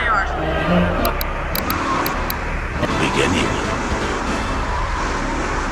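A car engine hums steadily while driving through city streets in the Grand Theft Auto 3 video game, a constant mid-level drone with traffic noise beneath characters speaking.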